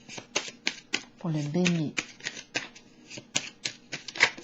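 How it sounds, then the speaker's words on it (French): A tarot deck being handled and cards drawn: a rapid, irregular run of crisp card snaps and flicks, close and clear, broken by a brief spoken phrase in French. "Ici, je vais piger une autre de mon jeu de Béline"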